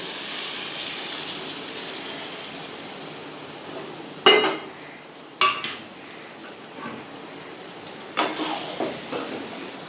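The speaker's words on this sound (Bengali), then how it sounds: "এবার এই আলু আর মটরটা আমি দিয়ে দেবো মশলার মধ্যে" Boiled potatoes and peas are tipped into a spice masala and stirred, a low simmering hiss broken by a few sharp clanks of a spoon against the pan and light scraping, with no talking.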